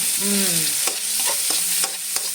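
Ginger and tomato sauté in a hot pan for mung bean stew, with a steady sizzle under a few sharp scrapes and clacks of a spatula stirring at close range.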